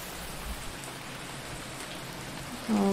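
Rain in a video game, falling as a steady, soft hiss of drops over a surface, evenly sustained throughout, with a brief tonal game sound entering at the very end.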